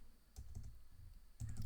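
A web address being typed on a computer keyboard, soft scattered key clicks with a brief pause, then a quicker final burst over a low background hum.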